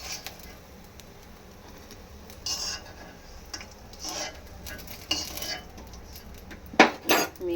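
Fried rava (semolina) snacks set onto a plate one by one, giving a few light clinks and taps of food and cutlery against the dish over a quiet kitchen background, with sharper clatters near the end.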